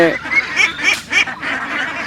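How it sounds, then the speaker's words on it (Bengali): A loud, close flock of farm ducks honking and quacking in quick repeated calls, several birds overlapping in a noisy chorus. "দেখতে পাচ্ছেন হাঁসগুলো অতি দ্রুতই বড় হয়ে গেছে"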